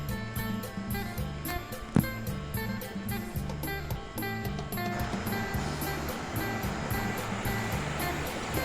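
A waterfall on a forest stream gives a continuous broadband roar of rushing water, which grows fuller partway through and stays steady beneath louder background music.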